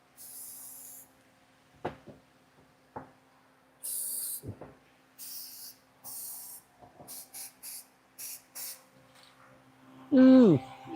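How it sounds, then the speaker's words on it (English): Short bursts of aerosol spray paint hiss in a quiet space, several brief sprays in an irregular rhythm with a few knocks between them and a voice briefly at the end. "I do inhale the smell of aerosol paint on occasions"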